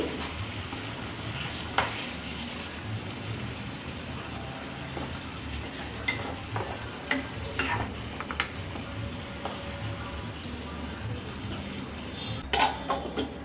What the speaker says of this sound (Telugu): మీడియం ఫ్లేమ్లో పెట్టేసి బాగా మిక్స్ చేసుకోవాలి.